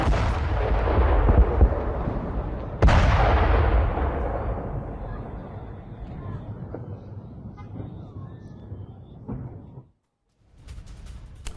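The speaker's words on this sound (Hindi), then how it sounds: "पूरी इमारत को किस तरह से लेबनान में उड़ा दिया इजरायल ने" Explosive blasts from Israeli bombing bring down a residential building in Lebanon: a heavy booming burst followed by a second loud impact near three seconds, with long rumbling debris decay, then a brief silence and renewed noise.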